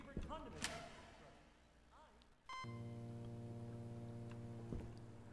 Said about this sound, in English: That fucking beep when we come back worries me.